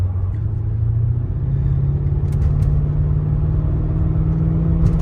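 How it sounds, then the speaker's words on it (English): A Mercedes W210 with a gutted AMG muffler idles and rumbles through its exhaust, a loud, deep, steady drone that swells slightly as the engine revs, with no talk. "That is the sound with the gutted muffler."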